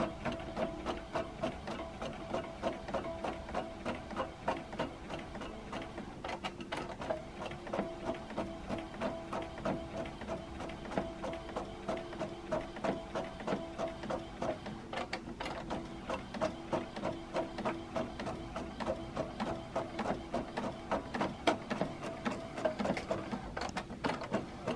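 A printer runs continuously while printing a welcome poster, producing a steady rhythmic mechanical whir and clatter with regular ticking pulses, close and moderately quiet throughout.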